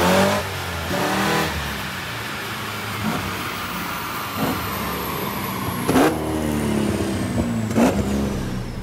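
On a dyno, a BMW E30 with a camshaft upgrade revs hard nearby, its engine note rising and sweeping upward over several seconds amid rolling mechanical noise and a few sharp bursts along the way.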